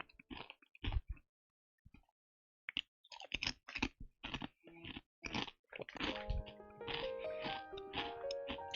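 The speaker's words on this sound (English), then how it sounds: "let me know if you think my chewing sounds are annoying" Someone eats right beside a microphone: a run of sharp crunching bites and chewing in uneven bursts with short pauses, then steadier mouth noise as a low background tone rises underneath, with no talking.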